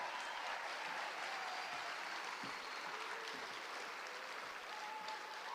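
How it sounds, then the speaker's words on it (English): Audience applause for teachers at the Canyons District Teacher of the Year ceremony, a steady, dense wash of many hands clapping at moderate distance with no voices on top, holding evenly throughout. "Let's give our teachers a round of applause."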